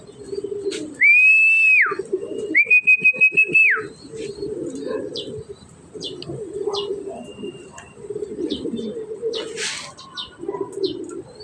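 Racing pigeons cooing in a loft, soft low murmuring coos repeating throughout, joined by two loud sustained whistles early on and scattered chirps and clicks nearby.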